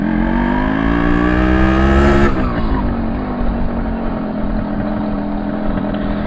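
An old two-stroke motorcycle engine revs loud and close, its pitch climbing for about two seconds before dropping back to a steady, rough idle-like drone that continues without pause.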